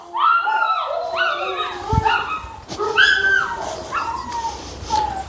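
A trained dog barks on command, giving several loud, close barks and yips spread across a few seconds, with no talk over them.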